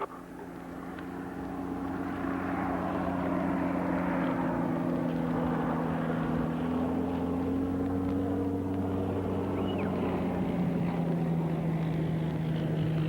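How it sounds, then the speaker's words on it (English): A light plane drones steadily overhead while arriving with supplies at a remote wilderness camp, its engine hum sustained and moderately loud, with a slight shift in pitch partway through as it approaches. "It was good to see the airplane."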